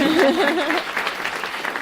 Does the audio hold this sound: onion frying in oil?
no